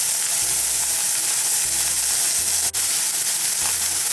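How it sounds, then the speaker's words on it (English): Onions browning in a de Buyer carbon steel pan, a steady close sizzle and frying hiss with a few faint clinks and stirring sounds, no talking. "What I want to do is I want to brown the onions"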